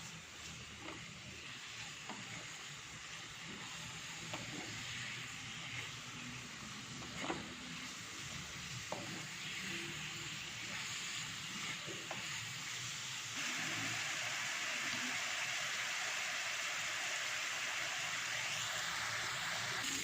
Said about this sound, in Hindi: हाई फ्लेम पे इसे फ्राई कर लेंगे।